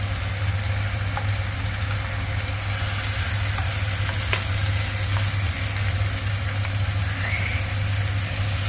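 Cumin powder sizzling in hot oil for Bengali-style tarka dal, a steady close frying hiss with a low background hum and a few faint clinks.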